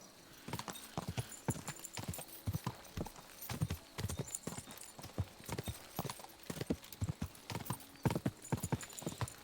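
Horse hooves clip-clop in a steady walking rhythm along a road in the video game Kingdom Come Deliverance 2, crisp and close, with no talking.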